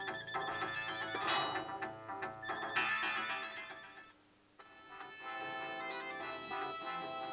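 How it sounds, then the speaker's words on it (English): Golden Axe music plays from a repaired Sega arcade game board, a busy, bright synthesized tune at moderate volume with a brief drop near the middle before it carries on. "Fantastic music on Golden Axe."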